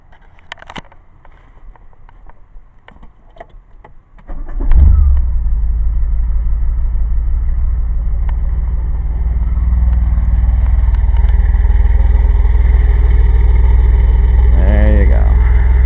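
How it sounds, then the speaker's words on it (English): A DeLorean's engine running on Ford ignition cranks and catches, then settles into a steady, loud, close idle with a brief rev midway, after faint clicks and handling noises beforehand. "DeLorean running on Ford ignition."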